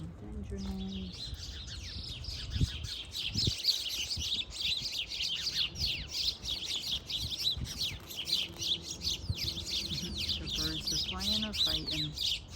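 Birds chirping in blooming Cleveland pear trees during an April garden tour, a busy chorus of rapid high tweets and calls running throughout, with occasional low background noises and soft sounds beneath.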